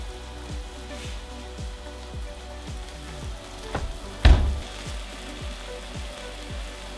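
Meatless burger patties frying in a pan give a soft, steady sizzle with faint rhythmic crackles, and one louder clatter partway through.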